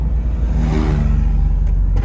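A 1978 Chevrolet Corvette drives along and brakes, its engine giving a loud, close, steady rumble with a slight whooshing rise, and no voices.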